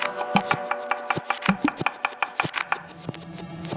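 A knife chops rapidly against a cutting board, a quick series of close, crisp taps through a red onion.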